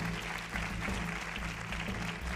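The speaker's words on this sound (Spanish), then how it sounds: "Aplauso." Audience applause at a televised Mexican beauty pageant gala, a steady dense wash of clapping from a large crowd, moderately distant and sustained for the whole stretch without a pause.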